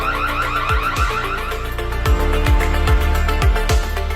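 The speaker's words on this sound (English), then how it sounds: "Enhanced security illegal alert. Illegal break already noticed the host. Perfect and safe sound alarm." A smart glass door lock's security alarm sounding, a loud repeating electronic siren pattern with rapid rising sweeps and sharp pulsed beats, alone and close.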